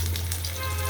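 Hot oil in a wok sizzles steadily with a soft crackle as tengra and rohu fish are lightly fried, joined by a low steady hum close by.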